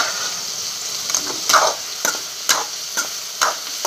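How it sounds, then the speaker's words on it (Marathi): Potatoes fry in a pan with a soft continuous sizzle, broken by several sharp clicks and scrapes of stirring at irregular intervals, close and fairly quiet. "बटाटे हे शिजू द्यायचे जरा"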